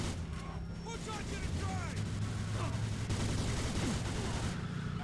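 Gunfire in the video game Mafia 2, a dense fusillade of shots over a continuous roar of game noise, with voices talking over it.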